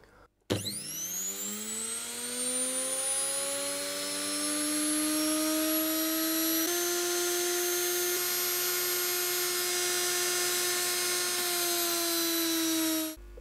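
An electric motor switches on by direct start, whining up quickly to speed and then running with a steady, loud high-pitched hum and rising tonal whine for about twelve seconds before cutting off abruptly.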